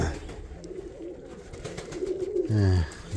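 Pigeons coo in a loft of racing and fancy birds, with soft low cooing under background noise and a louder, closer coo rising near the end.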